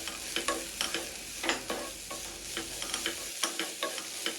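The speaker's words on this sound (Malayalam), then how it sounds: "എന്നിട്ട് നന്നായിട്ട് മൂപ്പിച്ചെടുക്കുക" Banana, grated coconut and sugar filling for unnakaaya stir-fried in a pan, with repeated scraping spoon strokes and a soft sizzle throughout, close and steady with no talk.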